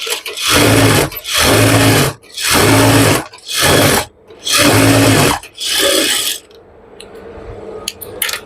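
A sewing machine stitches pajama fabric in five loud, close bursts separated by short pauses, then quiet handling noises.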